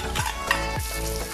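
Ginger hits a hot pan for pinapaitan, a Filipino stew of cow's internal organs, and sizzles steadily and close, with a few quick stirring scrapes breaking through the constant crackle.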